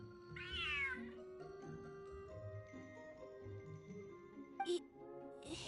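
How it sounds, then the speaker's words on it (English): A cat in a video game lets out a clear rising meow, followed by soft game music tones and a brief bright chime near the end. "Whoa, this cat is way bigger than the others."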